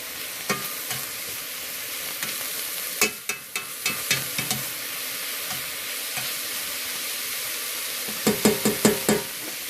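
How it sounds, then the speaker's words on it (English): Chilies are stirred into a hot pan of spices for tamales, giving a steady sizzle broken by scraping stir strokes and a quick cluster of clattering scrapes near the end, with no talking. "We're going to stir in our chilies."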